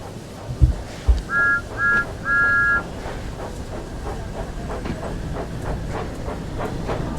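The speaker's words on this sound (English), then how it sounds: "we can set our reverser and we can start moving again." A train engine in the Wonders of Sodor video game gets under way, with a brief clank, a few short whistle-like tones and then a steady rolling hiss and chuff that carries on evenly, with no speech.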